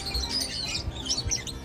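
African parrot-like birds at the Tierpark Herford zoo chirp in quick, scattered, high tweets at moderate distance, with no voices over them.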